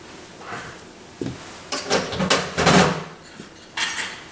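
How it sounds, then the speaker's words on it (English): Melted, cooled butter and an egg being whisked in a bowl, giving a run of clattering, scraping strokes of the whisk against the bowl, close and fairly loud, in irregular bursts with brief pauses and no talk. "I'm going to whisk those up, make sure they're nice and combined."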